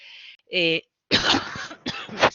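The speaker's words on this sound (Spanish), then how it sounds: "a veces me entra un poquito la tos" A few harsh, throaty coughs in quick succession, close and loud, following a short vocal sound.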